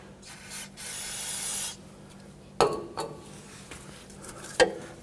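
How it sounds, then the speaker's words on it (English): Aerosol can of spray solvent hissing in one steady burst of about a second, used to clean a 2007-2017 Jeep Patriot front frame area during a sway bar bushing replacement, followed by a few sharp scraping and knocking workshop noises. "So I'm going to use some spray solvent"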